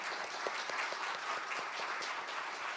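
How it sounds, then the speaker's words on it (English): An audience at a maritime museum congress in Rotterdam applauds the congress organizer, a steady, dense wash of clapping from many hands, sustained and fairly even throughout. "I think let's give her a big applause."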